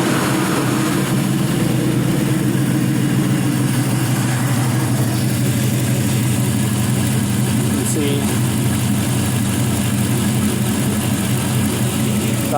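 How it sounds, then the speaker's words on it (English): A 5.3L LS V8 engine package with about 140k miles runs at a steady, loud idle throughout, a continuous low rumble with no voices over it. "let's go ahead and get this started. Hit field pump. I'm going to start it up."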